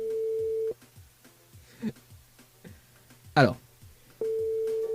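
Telephone busy signal with a callee unreachable, steady beeping tones at the start and end with a gap between where a person briefly speaks, loud and close on a phone line.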